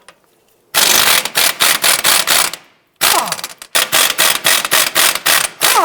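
Pneumatic impact wrench with a 19mm socket hammering off the strut-to-knuckle nuts on a 2004-2009 Subaru Outback, loud and close, in two long bursts of rapid rattling blows, each pausing briefly, with a short quiet gap between them.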